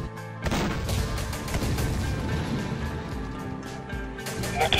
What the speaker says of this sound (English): Just aim and shoot that tank.